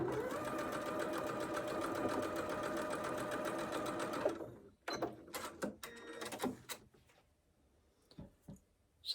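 A sewing machine stitches quilt squares of scrappy one-inch pieces in a steady, rapid mechanical whir that runs for several seconds and then stops, leaving scattered light handling clicks and taps close by.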